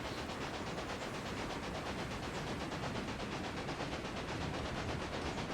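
Trains running in the Railway Empire video game make a steady, dense rumble of rolling noise that holds at an even level without breaks, with no voices over it.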